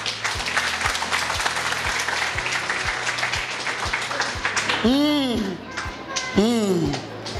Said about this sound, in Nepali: ताली बजाएर पढ्न धन्यवाद दिनलाई।